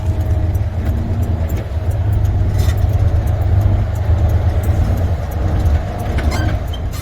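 A semi truck hauling a container pulls out of a lot, a heavy low engine rumble running steadily under scattered rattles and clanks, heard close from the cab with no talking.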